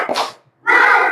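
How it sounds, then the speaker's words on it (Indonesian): A class of children does a rhythmic spirit clap together, a short burst of clapping and voices, a pause, then a louder, sustained wave of group sound up close. "Ayo tepuk semangat."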